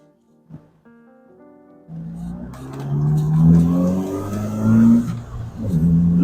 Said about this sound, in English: Lovely exhaust note.